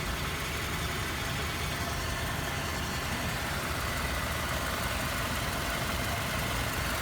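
A car engine idles steadily after an automatic transmission fluid change in a workshop, a constant low rumble with a broadband hum, close by and unbroken, with no talking.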